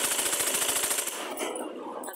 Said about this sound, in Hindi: इसको हम पांच पे कर लेंगे सिलाई लगाएंगे बड़ी सिलाई लगा रहे